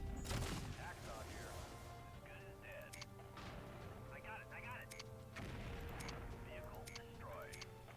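Rapid ultra autocannon fire from battling mechs in the game Mechcommander 2, repeated bursts of heavy rattling shots and crashing impacts over a dense, continuous combat din.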